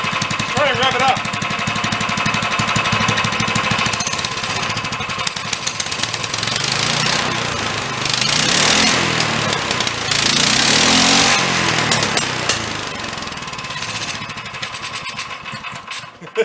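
A dune buggy engine revs and rattles close by, its pitch rising and falling through several throttle pulls over a continuous rough idle, with voices speaking over it now and then.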